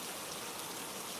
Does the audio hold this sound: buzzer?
no